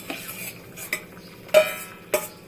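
Eggplant and bitter gourd pieces dropped into a cooking pan of Bengali bitter gourd and drumstick curry, giving four sharp clattering impacts spaced across a low steady background, fairly close and loud.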